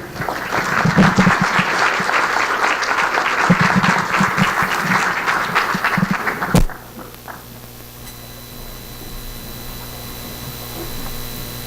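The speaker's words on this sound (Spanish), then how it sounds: "Damos un fuerte aplauso" An audience at a keynote lecture breaks into loud, sustained applause for several seconds, then it stops abruptly, leaving a quiet room hum.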